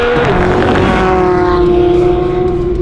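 Porsche 992 GT3 driven hard through a corner, a loud, sustained high-revving engine wail with a steady rising tone and no talk over it.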